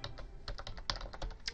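A password is typed on a computer keyboard at a Cisco IOS command line: a quick run of soft, close key clicks in an irregular rhythm, quiet and with no voices.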